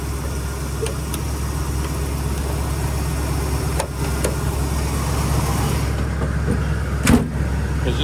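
A 1977 Jeep CJ-7 with a V8 and Turbo 400 automatic idles with its hood down, a steady low rumble close by, broken by a few faint clicks and one brief thump.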